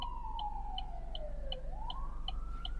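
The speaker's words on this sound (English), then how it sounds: "I hear a siren." A wailing emergency siren from an ambulance on a downtown Los Angeles street, its pitch sweeping down then back up in a long, steady yelp, loud and near over low traffic rumble, with short chirping tones repeating regularly above it.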